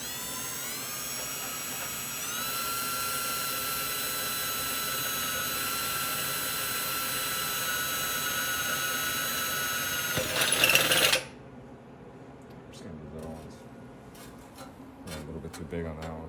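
Angle grinder cleaning up cut metal edges on a Toyota Supra MKIV transmission tunnel: a loud, steady high whine that runs about eleven seconds and then cuts off, with faint activity after it.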